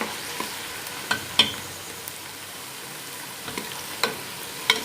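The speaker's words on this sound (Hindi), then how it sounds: "अदरक लहसुन का पेस्ट ऐड करने के बाद 1 मिनट के लिए फिर से फ्राई कर लेंगे।" Soft, steady frying hiss at low volume as ginger garlic paste fries with onions, broken by occasional light clicks and scrapes of a spoon stirring the pan.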